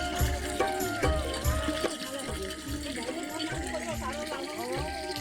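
Water from a village spring gushes and splashes steadily close by, with people talking throughout.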